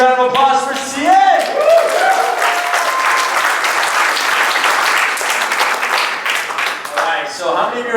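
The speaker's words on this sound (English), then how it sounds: "Another big round of applause for CA!" A crowd at a corporate kickoff event in Toronto bursts into loud, sustained applause with cheering, over a tonal whoop or musical sting at the start, and the clapping rolls on steadily before easing near the end.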